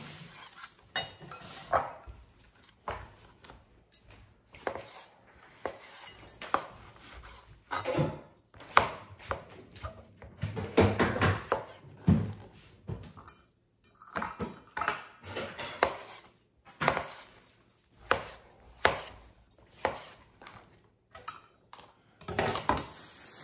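Roma tomatoes are chopped with a knife on a board in a series of irregular close thumps and taps, with occasional clinks of utensils between quieter pauses and no speech.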